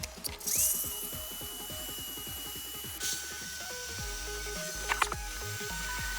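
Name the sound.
cutting old PVC pipe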